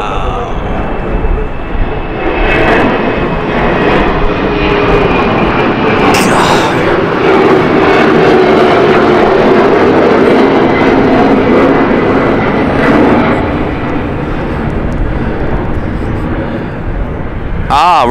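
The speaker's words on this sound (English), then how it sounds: "the takeoff speed with these, got literally just how quick they're getting off the ground" Airliner taking off at London City Airport, a loud, sustained jet engine roar that dominates throughout and fades slightly toward the end, heard from nearby outdoors.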